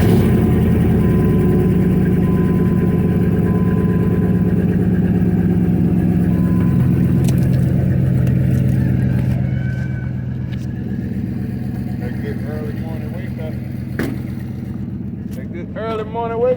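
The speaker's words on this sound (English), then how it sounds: "I'll let y'all hear the truck start up." A truck engine running close by, giving a loud, steady idle with a low throb that shifts slightly partway through and then settles, while voices can be heard near the end.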